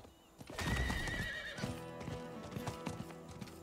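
A horse in the video game Diablo 4 neighs loudly near the start, then its hooves clip-clop in a quick, steady rhythm at close range.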